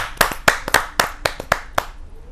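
An audience at a Hindi kavi sammelan poetry gathering claps to welcome a poet onstage, a burst of about eight sharp, distinct claps in a loose rhythm that trails off after two seconds.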